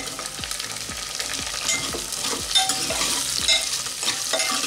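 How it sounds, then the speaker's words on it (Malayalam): Green tomatoes sauté in a pan while a spoon stirs them, a steady sizzle broken by regular scraping strokes every half second or so, close and without talking. "ഒരു മിനിറ്റ് ഒന്ന് വഴറ്റി ചെയ്ത് നമ്മൾ എടുത്തു വെച്ചിരിക്കുന്ന തക്കാളി ഇട്ട് കൊടുക്കാം"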